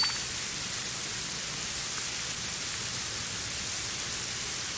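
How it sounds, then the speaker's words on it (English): Steady rain in a video game, a dense unbroken hiss of falling drops spread across a wide band, constant and fairly loud throughout, no voices. "It's raining."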